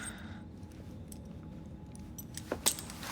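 A set of keys being handed over in Assassin's Creed Syndicate gives a faint, brief metallic jangle near the end of an otherwise quiet stretch.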